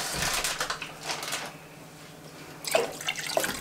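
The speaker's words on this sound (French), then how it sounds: "j'ajoute 3 bols à peu près de bouillon. Alors en fait là moi c'est de l'eau" Water poured from a tap into a pot of rice to serve as broth, a splashing, gurgling stream in short bursts with brief pauses between, close by and moderately quiet.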